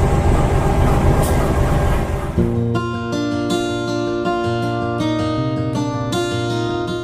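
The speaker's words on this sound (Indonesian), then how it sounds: "kereta api Kuto Jaya Selatannya perlahan mulai berangkat nih dari stasiun Kiara Condong" Kutojaya Selatan passenger train departing Kiaracondong station: a broad rumble and hiss give way to a steady, layered tonal drone with rhythmic pulses as the train pulls slowly away, close and loud with no talking.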